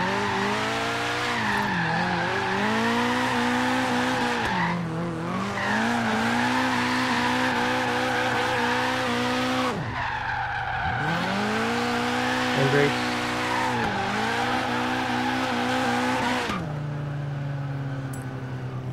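A Nissan 240SX drifting in Forza Horizon 3 makes long, loud tire squeals over a steady engine drone, rising and falling in several sweeping waves with brief breaks between slides.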